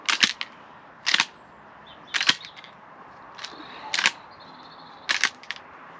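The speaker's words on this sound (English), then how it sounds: "I'll just unload my gun and then." A shotgun is unloaded at a woodpigeon roost shoot: five crisp, close metallic clicks and clacks come at roughly one-second intervals against a quiet outdoor background.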